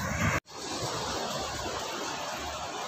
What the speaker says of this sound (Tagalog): Lalakas ng alon mga master.